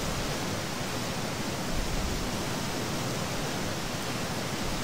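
Waterfall in the game Strafkolonie Online, a steady, loud, broadband rush of falling water that stays constant and close throughout with no other sounds.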